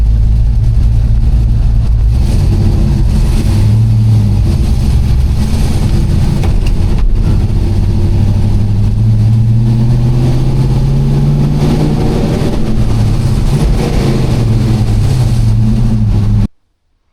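An LS-swapped car with a 5-speed and a truck cam revs loudly and close up for about sixteen seconds, its engine note rising and falling, then cuts off abruptly.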